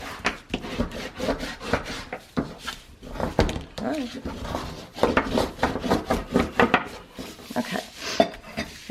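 Paper being rubbed and burnished down onto a book cover over score tape, a run of close, irregular scraping and rubbing strokes with small taps of handling, no talk.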